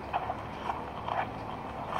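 Horse hooves stepping during groundwork handling, a few soft, irregular footfalls on the ground across two seconds, faint and set against steady background noise.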